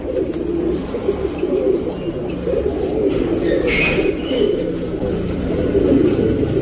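Soft, repeated cooing of a tournament racing pigeon in Bengaluru, a low warbling murmur running continuously at close range with faint background sounds.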